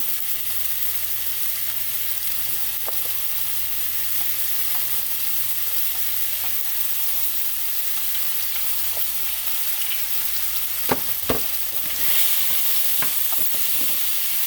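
Okra frying in a pan, a steady loud sizzle hissing throughout with occasional clicks and scrapes of stirring, briefly louder near the end.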